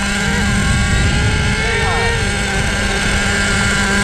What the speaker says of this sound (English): We got a high idle.